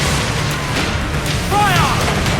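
Naval cannon fire from sailing ships in Assassin's Creed Black Flag, heavy booming shots rumbling steadily through a busy battle soundscape, with shouted voices calling out over the din.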